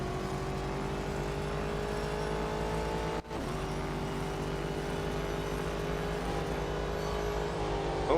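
A race car engine roars steadily around the Sebring circuit in the Real Racing 3 video game, a continuous high-revving drone with a brief cut about midway before the same unbroken whine returns.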